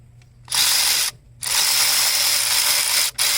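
A ratchet wrench turns in a spark plug on a 2015 Chrysler 200 with a 2.4 engine, giving two loud, close bursts of rapid clicking that are split by short pauses, with no talking.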